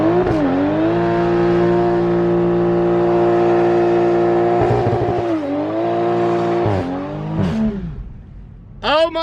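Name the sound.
Toyota Supra doing a burnout with traction control off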